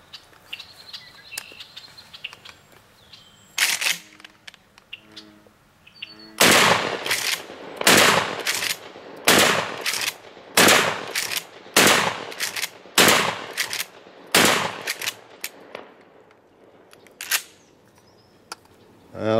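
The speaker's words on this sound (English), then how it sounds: "So for today's fun, I'm using the Mossberg 500." A Mossberg 500 12-gauge shotgun loaded with #8 birdshot fires a dozen loud, close, sharp blasts, evenly paced about a second apart after a quiet start, with no talking.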